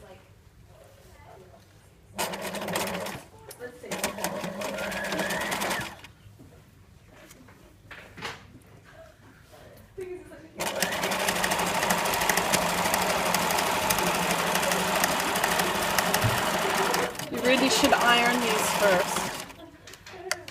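A sewing machine stitching fabric in an art college textiles workshop, running in two bursts, a short one early and a long steady run in the second half, with a person talking nearby between and over the stitching.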